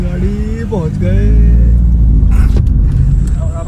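A car climbs uphill on a road toward a waterfall in Palau, its low engine rumble steady and close while someone talks over it.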